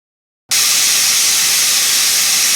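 A pressure cooker cooking mutton curry releases steam in a sudden loud hiss after half a second of silence, then holds a steady, close, forceful whistle-like rush to the end.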